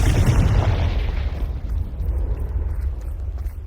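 A Confringo spell explosion in Hogwarts Legacy bursts loudly at once and then rolls off into a long, fading rumble.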